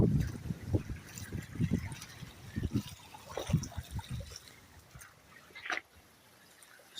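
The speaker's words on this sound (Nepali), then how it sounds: "पानी हालिरहेको छु।" Water poured onto plants in a home garden, splashing in short irregular bursts, then fading to a quieter trickle near the end.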